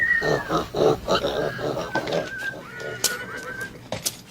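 Pigs oink and grunt in short, irregular bursts, fairly close, in a rural Western setting, with some higher squeals and a faint whinny-like tone mixed in.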